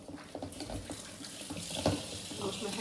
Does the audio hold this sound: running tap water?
yes